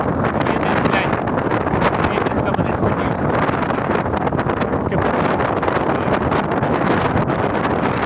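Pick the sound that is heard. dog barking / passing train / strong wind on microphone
strong wind on microphone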